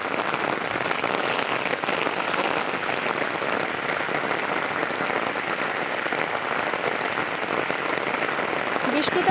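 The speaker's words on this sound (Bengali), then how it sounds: "দেখো দেখো কেমন পরিমাণে বৃষ্টি পড়ছে।" Heavy rain pours down in a steady, dense roar that holds at a constant loud level throughout, with no pauses and no talking.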